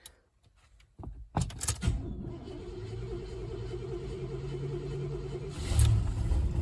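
A 1984 Oldsmobile Delta 88 with a V8 engine cranks briefly with clicks and clunks, then catches and settles into a steady, close idle with a low droning hum, with a louder surge near the end.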